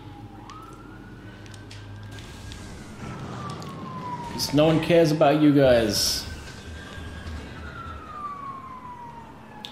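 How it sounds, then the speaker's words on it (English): A wailing siren sweeps slowly up and down in the distance while someone speaks briefly over it in the middle, heard in the video game Metroid Prime. "And there's a siren in the background."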